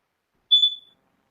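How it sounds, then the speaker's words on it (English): A single high-pitched electronic beep, sharp and steady, lasting about half a second before fading, alone in silence. "Sorry for the beeping."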